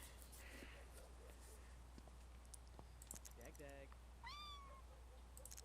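A kitten meows in The Sims 2, a few short rising cries near the end over steady game background sound, with other faint chirps earlier.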